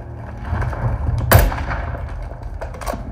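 Video game gunshot played through a gaming speaker: one sharp, loud blast with a deep bass thump and a bright crack, set against steady game background noise, with fainter pops around it.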